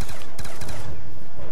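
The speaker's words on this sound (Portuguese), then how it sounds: "É tiro" Rapid automatic gunfire in Call of Duty Black Ops 2 Zombies, loud dense bursts of shots with heavy low rumble, continuous across the short clip.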